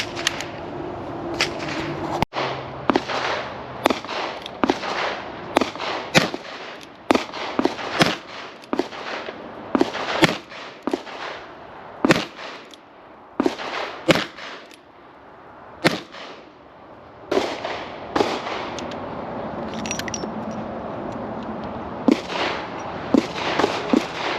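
Gunshots from a Ruger Redhawk .44 Magnum revolver at a shooting range, around twenty loud, sharp reports over roughly twenty-four seconds, fired at an irregular pace with short pauses between groups of shots.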